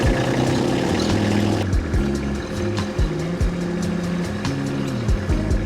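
A tractor engine runs steadily in a front yard, loud and close, its pitch rising and falling as the throttle changes and the machine works.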